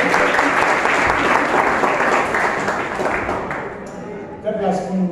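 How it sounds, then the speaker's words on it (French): Loud, sustained applause from an audience at a Bible verse recitation contest fades out toward the end, where a voice starts speaking. "On va acclamer encore une fois le nom du Seigneur."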